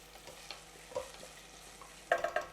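A single small onion frying in a pan for black chickpea curry: a faint, quiet sizzle with soft stirring, then a few sharp clinks of a utensil against the pan near the end.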